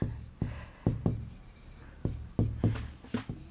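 Chalk or marker writing side lengths on a board during a class 4 maths lesson: a string of soft, sharp taps and short strokes, quiet and close, in an irregular rhythm.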